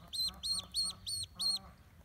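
A dwarf duckling with adult plumage coming in quacks five times in a quick, evenly spaced series of short, bright, nasal calls, heard close up outdoors with faint background noise.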